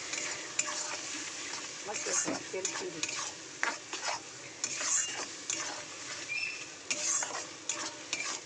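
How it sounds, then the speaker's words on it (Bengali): Spiced chicken masala sautéed in a pan, with continuous sizzling and frequent scraping and clinking of a spatula against the metal, close and fairly busy throughout. "এই মশলাটা এবার ভালো করে কষাবো"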